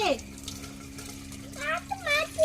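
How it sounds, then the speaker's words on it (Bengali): A tap runs in a steady, soft stream while a small child's hands are washed, with voices, including a child's, speaking over the water. "চলো কলে গিয়ে হাত ধুয়ে দি"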